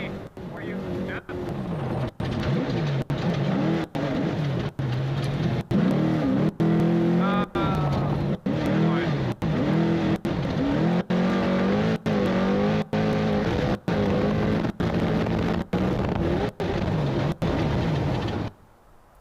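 Trophy Truck Unlimited racing engine in the SCORE San Felipe 250 off-road race, over 6,000 pounds on 40-inch tires, roaring and revving hard continuously with rising and falling pitch, cut by brief dropouts, voices heard faintly underneath.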